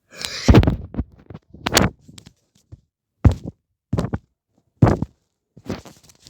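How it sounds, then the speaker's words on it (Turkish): Fingers tap and thump on a tablet screen during a Roblox parkour game, with irregular close knocks spaced through otherwise quiet stretches. "Bu arada tablete vuruyorum ha"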